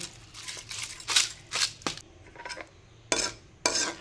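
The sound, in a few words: stirring bottle gourd payesh in a pot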